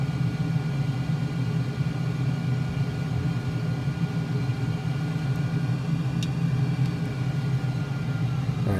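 An F-35 Lightning jet engine winds down in Microsoft Flight Simulator, a steady low rumble with a droning hum that holds fairly even throughout, with a couple of faint clicks and no voices.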